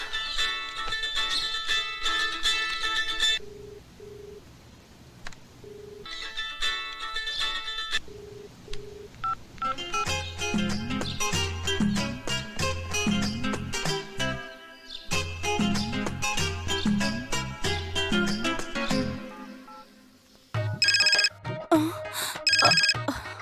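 A telephone in a Hindi-dubbed action film gives repeated electronic ringtone bursts separated by short gaps, along with dialing tones, and a final louder ringing burst near the end.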